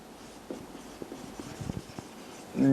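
Chalk or marker writing a rule on a board during a chemistry lesson on unsaturated compounds, a quiet run of short scratchy strokes with no talk, ending in a louder bump.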